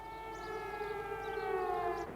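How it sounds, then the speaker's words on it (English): A sustained air raid siren drones steadily at a distance over Baghdad in 2003, a single unbroken wailing tone holding throughout. "The piercing drone of air raid sirens gripped the city."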